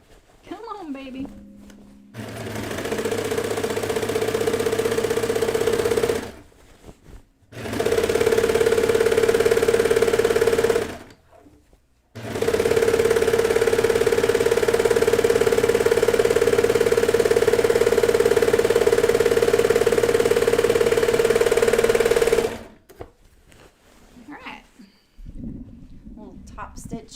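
A sewing machine stitching denim jeans runs in three sustained bursts with brief pauses between them, a steady mechanical whir heard close and loud, with a little talk before and after.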